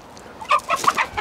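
A chicken clucking close by on Gran Canaria, a quick series of short throaty clucks.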